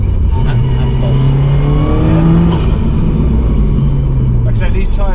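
An Audi TT Quattro Sport tuned to 450 BHP pulls hard with a loud, continuous engine roar from inside the cabin, revs climbing and dropping, while a person talks over it.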